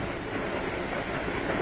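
A blacked-out wartime passenger train running in an old radio drama, a constant rumbling roar of rolling carriages with faint rhythmic clatter, loud and steady.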